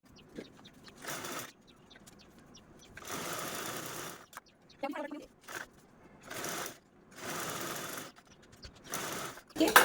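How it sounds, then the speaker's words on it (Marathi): Sewing machine stitching a ladies bag or purse, running in several close bursts of rapid mechanical whirring separated by brief pauses, with someone speaking in between. "तर अगोदर आपण हा पार्ट स्टिच करून घेऊ"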